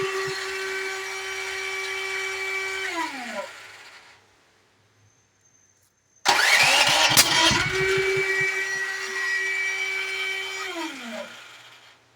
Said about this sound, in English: Now this is what it's kind of doing. See, there's that backfire.